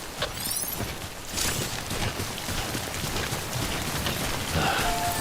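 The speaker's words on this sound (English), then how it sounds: "Don't stay out in the rain any longer than you have to." Timefall rain in the video game Death Stranding falls as a steady, dense hiss of rain with scattered patters and drips, moderately loud and continuous throughout, with no voices.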